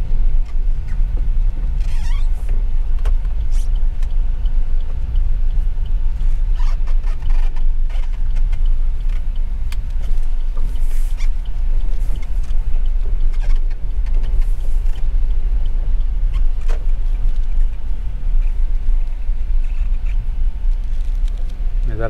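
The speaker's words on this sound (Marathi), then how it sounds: "जरा गाडी वळवली" A car travels the Mumbai-Goa highway NH66 near Bavnadi, Sangmeshwar, turning toward an old bridge, with a steady loud road and engine rumble and scattered light rattles throughout.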